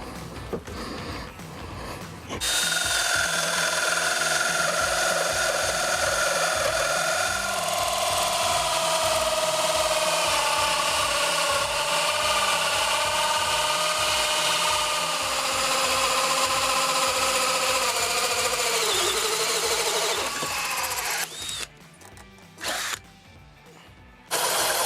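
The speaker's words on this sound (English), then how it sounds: "So let's drill out the rest." A power drill bores into a wooden 2x4 couch-leg block, whining at a steady high pitch for about eighteen seconds after a short start, then slowing and stopping in brief bursts.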